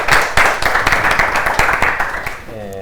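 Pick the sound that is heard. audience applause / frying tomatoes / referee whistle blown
audience applause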